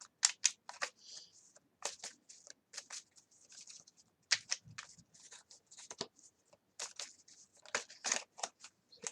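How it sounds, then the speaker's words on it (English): A deck of tarot cards being shuffled by hand, a close, quiet run of crisp riffling snaps and soft slides in irregular bursts with short pauses between. "apparently I'm shuffling the deck and I'm going to get another card."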